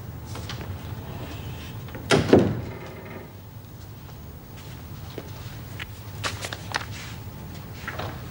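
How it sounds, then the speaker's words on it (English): An office door in a prison drama being shut, one short thud in a quiet room, followed by faint small knocks and shuffling. "Shut the door, please, Mrs. Powell."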